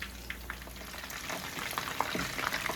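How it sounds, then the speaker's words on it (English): Chicken pieces frying in oil over medium heat for sweet and sour chicken, a steady close sizzle with small popping crackles scattered throughout. "I'm gonna allow these to fry for about 6 to 8 minutes in total"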